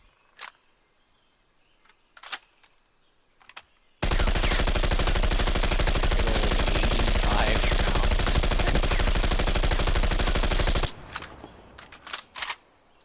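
Bullfrog gun in a video game firing one long continuous automatic burst of about seven seconds, loud and dense, with a few quiet clicks and handling sounds before and after.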